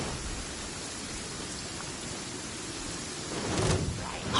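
Steady rain pours throughout a PS4 adventure game scene, a dense, even hiss that swells slightly louder near the end, with no talking.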